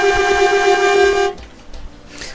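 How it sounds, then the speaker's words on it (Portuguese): A truck horn in Euro Truck Simulator 2 blares in one loud, steady, sustained blast lasting over a second, then cuts off, leaving faint background noise. "das buzinas, tá funcionando, ó"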